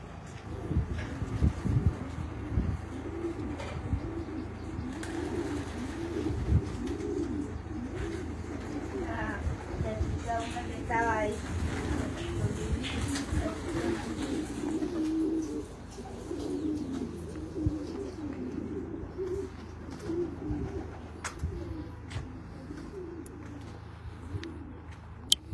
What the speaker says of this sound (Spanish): we are waiting for pigeons